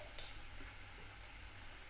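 Whole spices sizzling steadily in hot oil for a Bengali brinjal korma, a constant bright frying hiss with a faint stir near the start, close and fairly quiet, no talking.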